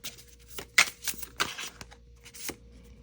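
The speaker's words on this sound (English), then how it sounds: "I'm doing it for you guys so you can see I'm shuffling it" A deck of tarot cards is shuffled by hand, close and fairly quiet, with several quick riffling bursts and soft slaps of cards over a few seconds, no voices.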